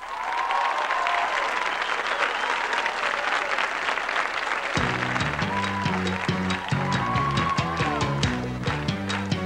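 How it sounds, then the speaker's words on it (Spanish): A studio audience on the variety show Siempre en Domingo applauds for Lourdes Munguía, steady dense clapping throughout, with music and a melodic line entering halfway and continuing under the applause. "pedir el aplauso de ustedes para Lourdes Munguía"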